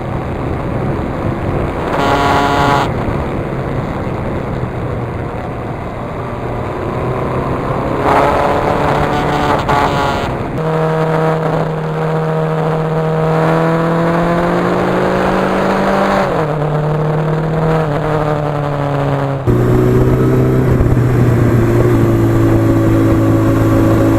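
A 41-year-old Suzuki GS1100E motorcycle with about 76,000 miles being ridden, its engine droning loudly and shifting pitch through several gear changes and accelerations, over heavy wind rush at the microphone.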